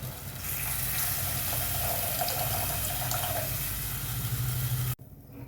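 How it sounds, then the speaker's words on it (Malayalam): Tamarind water pours steadily into a pan of curry spices with a continuous rushing, splashing sound, close and fairly loud, stopping abruptly near the end. "അതിലേക്ക് പുളിവെള്ളം ഒഴിച്ചു കൊടുക്കാം"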